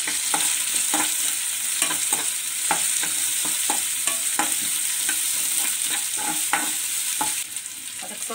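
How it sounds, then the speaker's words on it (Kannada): Green chillies and chopped onion fry in hot oil in a pan for vermicelli upma, with a steady broadband sizzle and repeated sharp scrapes of a spoon stirring through the pan, close and continuous. "ಹಾಗೆ ಇಲ್ಲಿ 4-5 ಹಸಿರು ಮೆಣಸಿನ್ಕಾಯಿನ ಕಟ್ ಮಾಡಿ ಇಟ್ಕೊಂಡಿದ್ದೀನಿ, ಅದು ಹಾಕ್ತಾ ಇದ್ದೀನಿ ನಾನು."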